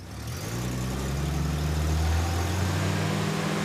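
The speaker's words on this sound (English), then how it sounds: "Go ahead and rev it up." A car engine in a garage revs steadily and loudly, rising to a sustained high-rpm drone, close by with no talk.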